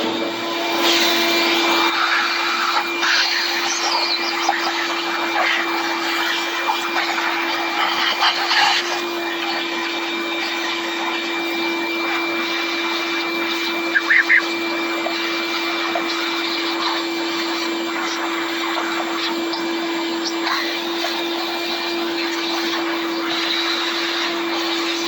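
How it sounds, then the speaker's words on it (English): A vacuum cleaner cleaning out a Dewalt 60V brushless chainsaw runs steadily and loud for the whole stretch, with a constant droning whine and a few brief rattles partway through. "We're just going to vacuum this out."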